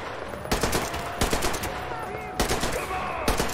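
Gunfire in Metro Exodus comes as several sharp bursts of rapid shots spread across the moment, loud and close over a rumbling game background, with faint voices.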